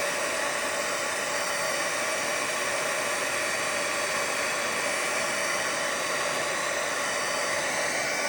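A hair dryer blows over a wet watercolor painting, a steady loud whooshing roar that holds unchanged from start to end with no talk.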